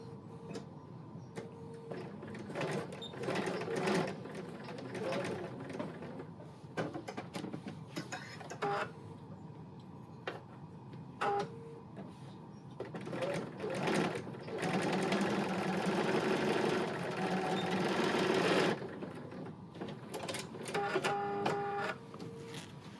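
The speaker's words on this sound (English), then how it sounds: "just sew 1/4 inch and back stitch at the beginning and the end" A sewing machine stitches quilt block pieces in short bursts of rapid mechanical whirring and clatter, separated by brief pauses, with one longer run near the end.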